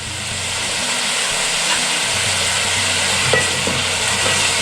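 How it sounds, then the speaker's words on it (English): Chopped tomatoes are stirred in a pan over low heat while cooking for Nile perch, with a continuous soft sizzle and faint scraping of the spoon, close by and with no voices. "and then you add your tomatoes. Mix them."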